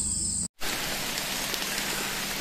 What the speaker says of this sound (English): Getting a little rain.